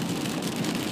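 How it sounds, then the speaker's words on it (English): Steady rain falls on a surface, a dense even patter that holds at a constant level with no voices. "this rain will taper down"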